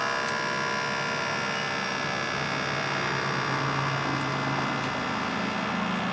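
An air suspension pump runs on a custom Kawasaki Vulcan 1700 Vaquero motorcycle, giving a steady, continuous electric hum and whine close by that holds level throughout with no talking.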